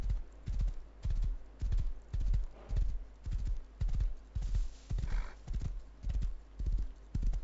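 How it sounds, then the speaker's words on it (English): A horse in the Rust video game trots along with a steady, evenly spaced clip-clop of about a dozen hoof beats, close and clear, with a brief faint whinny midway. "You are a very naughty horse."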